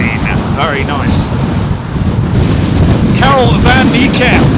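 Strong gusty wind buffets the microphone at London Heathrow Airport near runway 27L, a continuous loud roar of broadband noise throughout, with brief bird-like chirps and faint voices mixed in.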